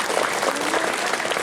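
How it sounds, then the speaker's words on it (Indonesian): Applause from students at a school flag ceremony marking Pancasila Day, a dense, loud burst of many hands clapping together, sustained evenly through the short moment. "Sekali lagi, tepuk tangan yang meriah."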